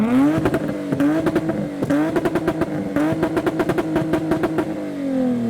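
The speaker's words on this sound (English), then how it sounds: "Someone's revving what sounds like a Lexus IS." A nearby car engine, sounding like a Lexus IS, revs repeatedly at a Japanese car meet, rising and falling in pitch with a rapid, burbling exhaust pulse, loud and without talk.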